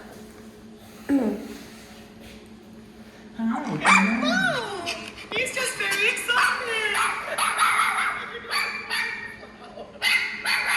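A small dog barks and yips excitedly in repeated high-pitched bursts, close by, with a person talking over the noise.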